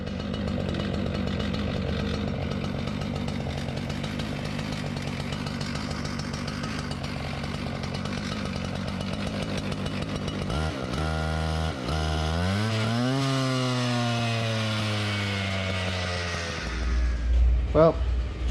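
A Husqvarna K970 concrete saw with a newly fitted carburetor runs outdoors, its two-stroke engine droning steadily, then wavering and climbing in pitch as it revs and settles, loud and close throughout.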